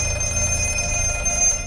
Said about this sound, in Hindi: तभी दोबारा फोन बजता है